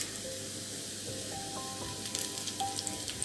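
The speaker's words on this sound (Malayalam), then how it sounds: "നമുക്കതിലേക്ക് ഒരു തണ്ട് കറിവേപ്പിലയും കൂടെ ആഡ് ചെയ്യാം." Curry leaves sizzling in a pan with frying ginger and garlic for a Kerala-style mackerel curry, a steady close hiss with faint crackles and a few brief pops near the end.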